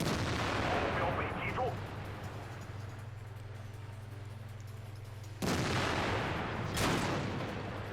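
A heavy tank gun fires at a KV-1S in World of Tanks, a loud booming shot with a rumbling tail, then an engine drone, then a second sharp blast with a lingering rumble.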